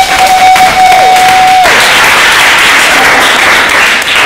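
Steady applause fills a room during an open-mic night, loud and continuous throughout, with a faint whistle-like tone in the first part before the clapping swells into a dense crowd wash.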